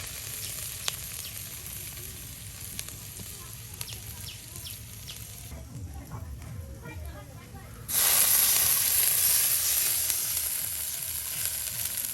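Onions, spices and other ingredients frying in oil for a singi catfish dish, with a steady close sizzle and occasional stirring, jumping to a louder, brighter hiss partway through as more goes into the hot oil.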